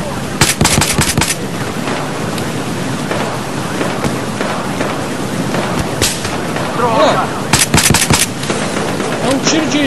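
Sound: gunfire in video game Battlefield Hardline

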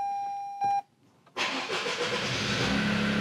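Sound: Toyota GR Yaris engine starting up

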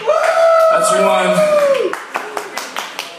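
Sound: audience clapping

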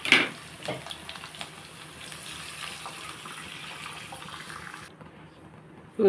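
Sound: pouring water into the pan for ragi upma

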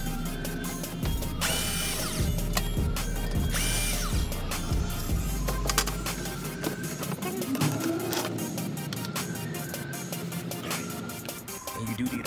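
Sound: socket ratchet loosening oil drain plug

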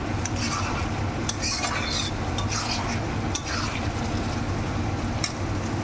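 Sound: stirring lotte fish curry in pan

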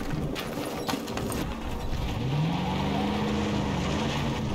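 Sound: car engine in a video game

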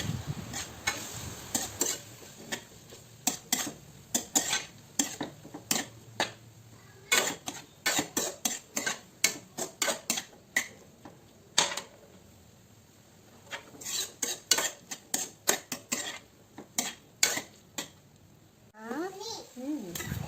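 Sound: stir-frying tomato sauce in a pan

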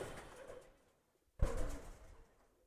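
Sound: pigeon cooing nearby

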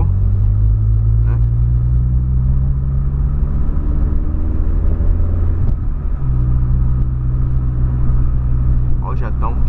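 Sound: Volkswagen Polo with 4-inch exhaust revving

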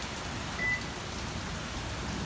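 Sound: heavy pouring rain

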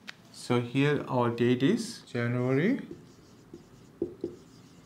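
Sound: writing the date by hand

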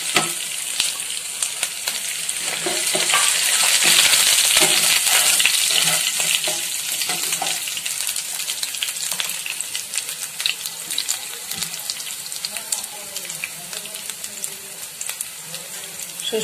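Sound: black mustard seeds sizzling in frying oil

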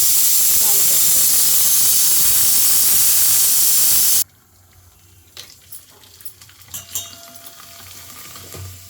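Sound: papads being deep-fried in oil

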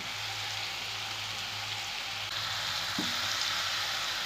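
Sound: mashed banana sautéing in ghee

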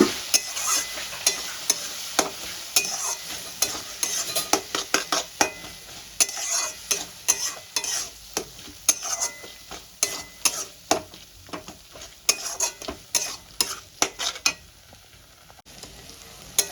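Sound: ginger, garlic and green chilli paste sautéing in a pan

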